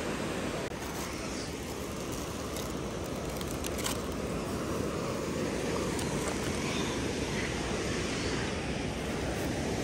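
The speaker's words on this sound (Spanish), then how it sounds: "hasta el fondo, y las olas eran más altas" Ocean waves wash steadily onto a beach during a seaside picnic. The surf makes a constant broad rush mixed with wind buffeting the microphone, with no voices.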